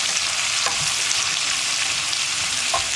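Sliced onion and whole green chillies fry in oil inside a pressure cooker for egg biryani, making a continuous close sizzle with faint stirring scrapes and no talk.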